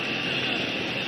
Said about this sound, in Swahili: Tuwape makofi marubani wetu wa ndege hizi ambazo zinapita kwa sasa